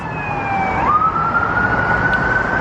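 A loud wailing ambulance siren sweeps down then holds a steady rising tone, close by, over a rumble of city traffic.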